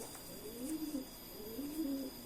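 Soft, low cooing from pigeons, two rolling coos in a row, fairly faint over a steady background hum.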